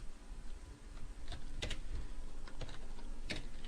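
Keystrokes on a computer keyboard while entering C++ code: a few sparse, close clicks and taps spread across a steady low background hum, with no talking.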